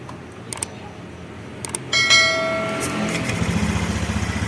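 A motorcycle being checked for a crankshaft position sensor fault with lost spark and MIL code 52 is cranked on the electric starter and fires into a steady, pulsing idle, after a few light clicks.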